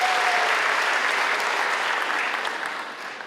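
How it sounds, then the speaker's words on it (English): Sustained audience applause for Malema at the launch of a Pan African Institute, a dense steady wash of many hands clapping close and loud for about three seconds before easing slightly. "Give Malema a big clap"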